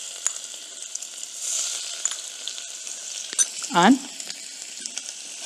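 Chopped garlic dropped into a pan of hot oil where cumin is already cooking, a soft steady sizzle with a short stir or scrape near the end, and a voice speaking briefly over it.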